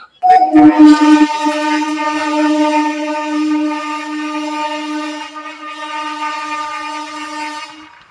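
A MEMU local train running from Ghatshila to Howrah sounds a long, loud horn that holds steady for about seven seconds before cutting off, with faint running noise beneath.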